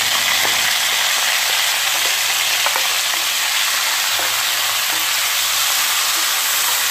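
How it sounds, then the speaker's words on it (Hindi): Green onion, garlic and ginger fry in a pan with a loud, continuous sizzle and hiss, broken by occasional light stirring clicks, with no talking. "तो प्याज, लहसुन, अदरक अच्छे से देखिए ये फ्राई हो गए हैं।"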